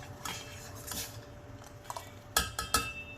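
A spoon stirs sabudana kheer in boiling milk in a pot, giving quiet scraping and a few sharp metallic clinks against the pot's side, soft and close with no talking.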